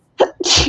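A single sharp sneeze, close and loud: a short intake followed by a burst of breathy noise, with no talking.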